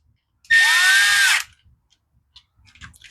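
One short, sharp whine of a small power driver running a screw snug into the metering diaphragm cover of an Echo SRM210 string trimmer, lasting about a second, followed by faint handling noise.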